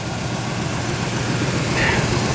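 A 1998 Ford Ranger XLT four-wheel-drive engine idles through an aftermarket exhaust, a steady, fairly quiet low rumble that holds even and unbroken throughout with no voices.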